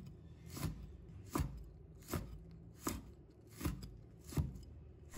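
A knife slicing small chili peppers into rings on a cutting board, six or seven crisp, evenly spaced chops ringing out clearly up close, with no talking.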